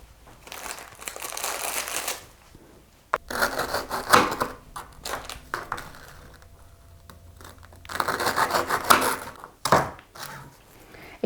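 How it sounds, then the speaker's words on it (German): Knife cutting through ladyfinger biscuits for a peach charlotte, dry crunchy crumbling and scraping strokes in several bursts separated by short pauses, close and fairly loud. "wir schneiden die Löffelbiskuit auf etwa 7 cm"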